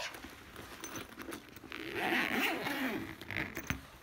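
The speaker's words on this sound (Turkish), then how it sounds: "Fermuarını çekiyoruz." Zipper on a small toy suitcase pulled closed during children's pretend play at home, a close, loud rasping zip running about two seconds with short scrapes before and after.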